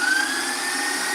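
An electric hand whisk beats sugar and eggs for a no-bake Italian tiramisu, giving a steady, close motor whir with a faint high tone and no speech.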